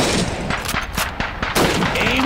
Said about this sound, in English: Shoot those bottles and plates.